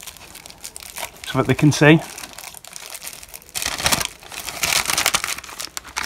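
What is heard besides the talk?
unwrapping a packaged comic haul item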